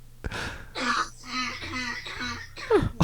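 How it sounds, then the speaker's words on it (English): A single harsh cough bursts out near the start, followed by a stretch of talking and another rough throaty sound at the end. "Yeah, that was me coughing."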